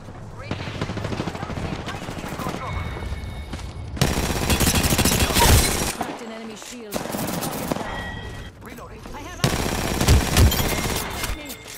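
Rapid bursts of automatic gunfire rattle in an Apex Legends firefight, loud and close with clustered volleys and short pauses, mixed with game sounds and a player's voice.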